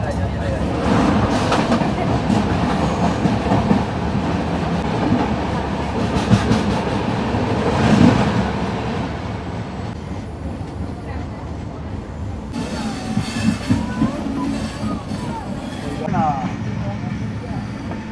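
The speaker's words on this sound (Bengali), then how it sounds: "এখন ক্রস করছে নিউ জলপাইগুড়ি হাওড়া শতাব্দী এক্সপ্রেস।" The New Jalpaiguri–Howrah Shatabdi Express rushes past as a loud, continuous rumble and rattle of rail cars that eases near the end, with people talking over it.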